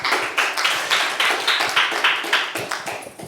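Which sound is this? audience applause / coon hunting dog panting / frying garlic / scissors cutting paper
audience applause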